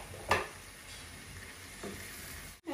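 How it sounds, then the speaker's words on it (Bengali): Kebab curry being stirred in a frying pan: a quiet sizzle with a sharp utensil scrape near the start and a softer one later, close and with no voices. "এখন সুন্দর করে নাড়াচাড়া করবো"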